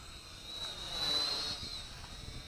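A small Syma X5C quadcopter drone flies nearby with a thin, steady high-pitched whir from its propellers that swells slightly and then eases off, faint and without talk.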